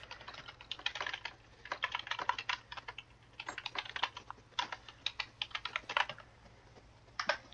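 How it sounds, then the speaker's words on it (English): Rapid typing on a computer keyboard, bursts of clicky keystrokes in irregular runs with short pauses, close and fairly quiet over a steady low hum. "I should type this out."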